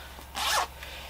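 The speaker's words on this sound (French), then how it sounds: "Je vous ai même pas montré la fermeture éclair." A zipper sewn into a pair of homemade trousers is pulled once in a quick, soft rasping zip, close and quiet, with no talk.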